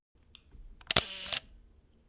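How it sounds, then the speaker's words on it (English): A single crisp mechanical shutter click from a Leica M8 rangefinder camera, close and fairly loud, followed by a brief whirring release, in a quiet room. "Another thing that I love about this camera is its shutter sound."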